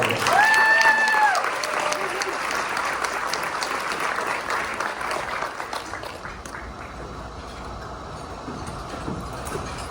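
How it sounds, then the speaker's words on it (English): Applause from a luncheon audience at a Rotary Club awards event, strongest at first and thinning into scattered, softer clapping, with a short whistle-like tone early and faint room noise beneath. "Let's give him another round of applause."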